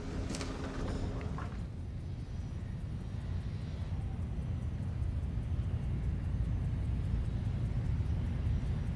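Douglas DC-6B piston-engined propeller cargo plane, an old long-serving freighter, producing a steady, loud broadband drone that holds evenly throughout, with a brief clatter near the start before the continuous engine roar settles in.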